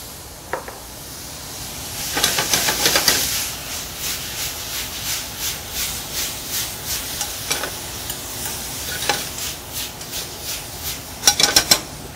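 Spaetzle frying in a sauté pan with olive oil, leeks and shiitake mushrooms, a steady close sizzle broken by bursts of stirring and scraping, with no one talking.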